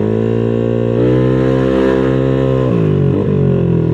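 A Vespa scooter engine revs strongly nearby, its pitch climbing steadily and holding high before dropping back with a short stutter near the end, loud and sustained with no voices.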